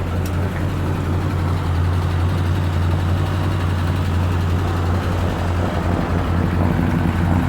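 A 1940 Ford Deluxe coupe's flathead V8 with aftermarket mufflers runs at a steady idle, a continuous low rumbling drone heard close by and loud throughout, with no voices.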